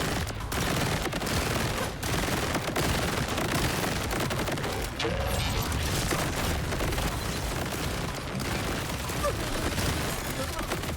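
Dense, continuous shotgun fire and blasts from the Hot Slugger in Borderlands 4 pound away without pause, loud and chaotic, with a voice talking faintly underneath.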